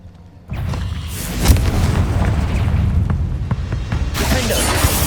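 A Confringo blasting curse detonates in Hogwarts Legacy, a sudden booming explosion that swells into a sustained rumbling roar with crackling debris, loud and close, and a second burst of hiss near the end.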